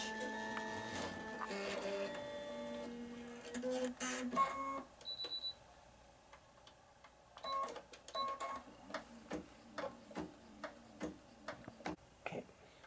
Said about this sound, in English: Go ahead and place your hoop back in your machine, and we'll do the next stitch.